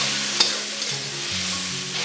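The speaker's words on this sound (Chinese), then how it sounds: "接着放入脆笋，先给它炒上几下" Pork and crunchy bamboo shoots being stir-fried in a wok, giving a steady low sizzle under a few scraping tosses of the spatula, with no voices.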